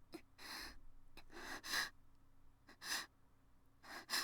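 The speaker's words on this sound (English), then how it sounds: "I snap awake to the sound of someone breathing heavily a few inches from my ear." Heavy breathing from a character in the visual novel The Fruit of Grisaia, close to the ear: several separate breaths and gasps in irregular bursts with pauses between, with no talk.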